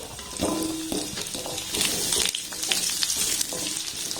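Potatoes and cut vegetables hit hot oil in a pan with bay leaves, giving a loud steady sizzle and frying crackle with some stirring.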